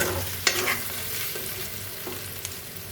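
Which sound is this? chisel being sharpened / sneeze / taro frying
taro frying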